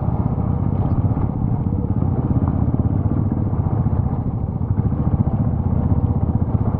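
A motorcycle rides off-road with a loud, steady engine rumble and clatter that stays close and continuous throughout, with no speech over it.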